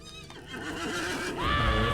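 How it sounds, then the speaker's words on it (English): Horse whinnying in the online game Lord of the Rings Online, a rising and falling neigh that swells into a louder, fuller cry near the end, with a soft hoof clatter underneath and no talk. "We're gonna take Candide's horse and ride over there."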